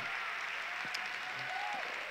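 Sparse, thin applause from a small lecture audience at a recruiting talk, a few scattered claps under steady room noise.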